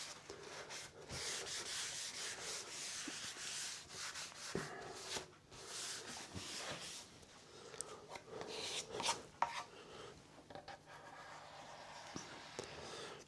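Kitchen roll or a shop towel rubbed over the grain of a Flying V guitar's wooden body to work in finish, giving repeated scratchy swishing strokes of uneven rhythm, close and fairly quiet, with no speech.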